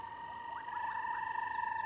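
Distant bubbling kassina frogs give soft, liquid popping calls over a steady high trilling chorus of other frogs in the African bush at night, faint and sparse.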